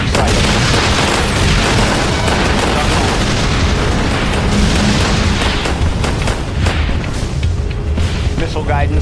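Explosions and booms in the C&C Generals Zero Hour video game fill the clip with dense, loud, continuous blasts, mixed with game voice lines.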